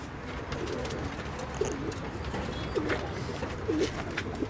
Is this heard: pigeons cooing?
yes